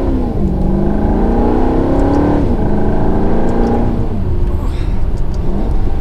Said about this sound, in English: we're gonna do one last acceleration